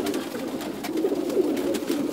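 Phulsara breed pigeon cooing, a soft continuous low murmur of coos held steadily throughout at moderate level.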